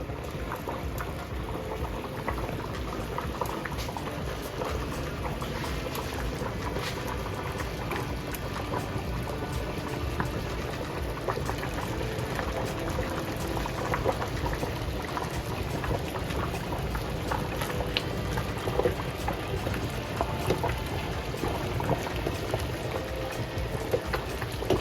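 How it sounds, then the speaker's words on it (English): Running water splashes steadily over hands being rinsed at a carp fishing lake on a fish farm, a close, continuous gushing wash with small fluctuating spatters and no speech. "let's go rinse my hands off"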